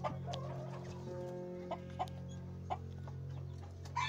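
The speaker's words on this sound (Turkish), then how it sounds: "Sultan tavuğu diğer adı serai tavuk olan bir tavuk türüdür." Sultan chickens, the ornamental Turkish serai tavuk breed, give scattered short clucks at an easy, irregular pace over a constant low hum, with no voices.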